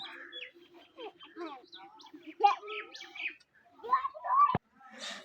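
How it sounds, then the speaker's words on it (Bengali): Common myna birds feeding on bhujia snacks in the morning chirp and chatter in quick, varied bursts nearby, mixed with people talking. "ছোট কাকা শালিক পাখিদেরকে সকালবেলাতে ভুজিয়া খেতে দেয়, তো ভুজিয়া খেতে এসেছিল"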